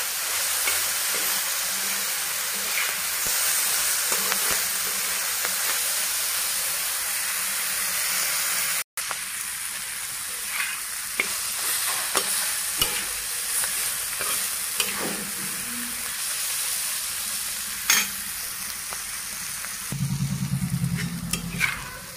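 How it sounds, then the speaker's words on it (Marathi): Vegetables being stirred and fried in a pan for a Marathi ghol leafy greens dish, with chili powder added: a steady close sizzle under repeated scraping stir strokes, with no one talking. "छान मिक्स करून घ्यायचं।"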